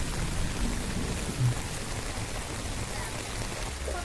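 Heavy rain during a storm with lightning, a dense continuous roar of falling water close by, steady and loud for the whole stretch with no speech.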